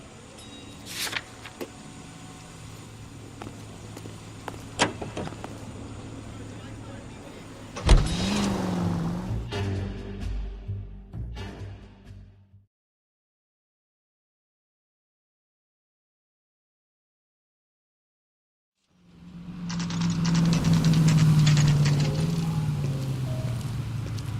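A car driving in the video game L.A. Noire: a steady engine hum with small interface ticks, then a sharp thud and rumble, a stretch of silence, and a louder engine drone swelling back in near the end.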